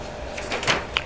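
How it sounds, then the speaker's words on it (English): Sheet of draft paper pulled away from tracing paper during a charcoal pencil tracing, a brief soft papery rustle and slide with a light crisp flick at the end, close and quiet. "we'll remove this draft paper"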